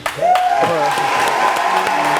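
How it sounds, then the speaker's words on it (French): Studio audience clapping and cheering on a talk show, loud and sustained, with a voice shouting over it and a tonal sweep at the start. "vous savez vraiment applaudir les gens"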